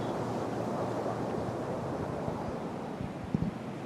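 Steady wind gusts across an open golf course at the PGA Championship, a continuous loud broadband rush buffeting the microphone, with a couple of faint knocks near the end and no speech.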